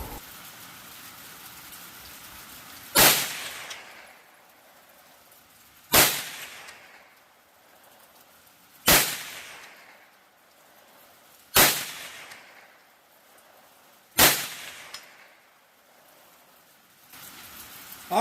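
Five .22 WMR rifle shots with Winchester Super X 40-grain ammunition, fired at a steady pace about three seconds apart, each a sharp loud crack followed by a short fading echo.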